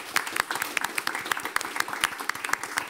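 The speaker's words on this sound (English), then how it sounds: "Please give them a warm applause." Applause at a magazine launch event, a modest group clapping steadily at fairly close range, individual claps distinct and irregular, with no talk over it.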